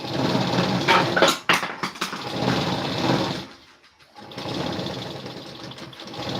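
A sewing machine stitches a blouse piece and its lining together along a marked boat-neck front outline: a steady, close mechanical whirring that runs, stops briefly midway, then resumes, with no voices.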